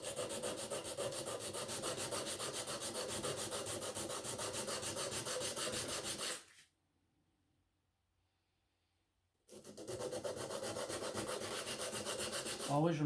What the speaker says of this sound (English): Always remember to rotate it to ensure an even sand, and obviously you want to use a relatively even surface as well.